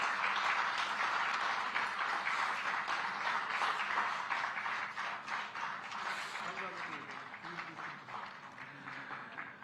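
An audience at a government project inauguration event in Panchkula claps together, a dense patter that stays strong before gradually thinning toward the end, with some voices mixed in.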